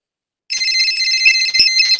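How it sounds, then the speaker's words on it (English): A cell phone call rings out after a moment of silence, a steady electronic ringback tone sounding continuously and fairly loud, with small clicks on the line. "I'm calling his cell phone, so they charge him some units."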